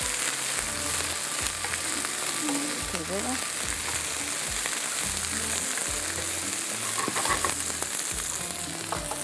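Food frying steadily in a pan for a chicken desi masala, a continuous close sizzle with low background hum and faint stirring, no voices.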